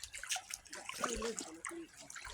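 Water flows over stones along a rural stream at Chandra Dinga, Panchgaon in Netrokona, a steady trickling wash that stays close throughout, with voices talking over it.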